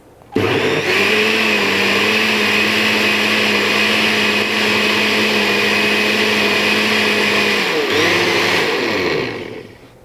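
A blender whirs steadily for about nine seconds at full volume while blending a pumpkin smoothie, with a brief dip in pitch near the end before it winds down and stops.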